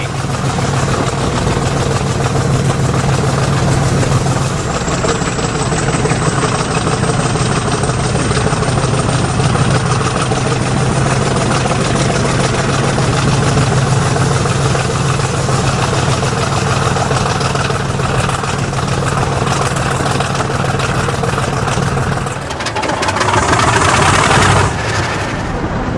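British Rail Class 50 diesel locomotive engine running loud and steady with a deep low rumble and broad roar throughout, swelling louder near the end as the train departs south.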